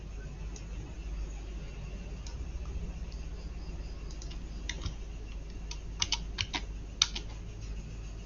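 Someone types on a computer keyboard, deleting text and pressing enter while tidying a paper document: steady, close keystroke clicks that grow into a quick cluster of louder clacks near the end.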